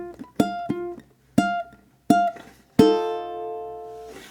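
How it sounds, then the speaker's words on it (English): A ukulele plays a short, cheesy jazz-blues ending: several crisp plucked chord stabs spaced out in rhythm, closing on one final chord that rings out and slowly decays, close and clear with no talking. "we have this little cheesy cliche ending"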